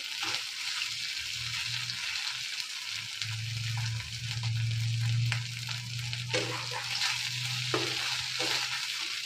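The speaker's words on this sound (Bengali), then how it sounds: "যতক্ষণ না তেল বেরোবে, অল্প তেল বেরিয়েছে তখন আর একটু কষা হবে।" Doi katla curry masala sautés in oil with a constant crackling sizzle and occasional spoon scrapes against the pan, heard close up with no voices.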